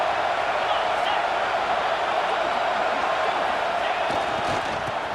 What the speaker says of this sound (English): this crowd is turning it up a notch